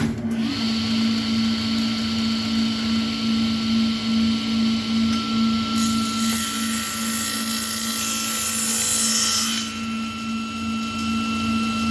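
A table saw runs steadily during a cross cut, its loud continuous motor whine holding constant throughout with a brighter high-pitched blade tone rising midway as the wood is fed through, no voices present.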